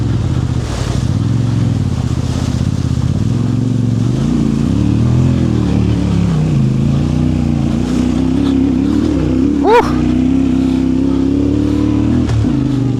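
A Yamaha T7 motorcycle rides through a river crossing on the upper Goulburn River, its engine droning steadily and loudly throughout, with the revs rising and falling under load and a brief sharp rev near the end.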